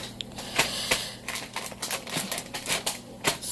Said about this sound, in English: I got the scissors so I can cut it open.